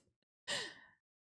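A single breathy yawn-like exhale, loud and close, swells quickly and fades over about half a second, alone in quiet.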